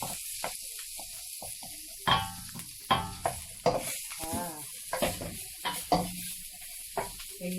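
Garlic and ginger frying in a pan with oil give a steady hiss and sizzle, broken by repeated scraping stirs that stand out loudly and close at a loose, uneven rhythm.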